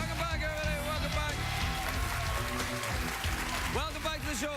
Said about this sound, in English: Please, everybody, stop your excessive clapping.